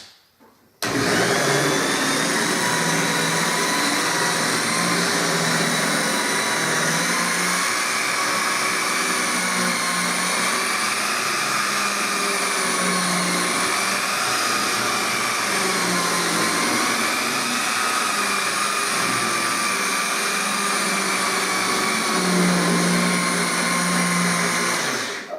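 An electric car polisher runs continuously while cutting paint to remove swirls, a loud, close, steady motor whine with a slight wavering pitch that holds for about twenty-four seconds after a quick start.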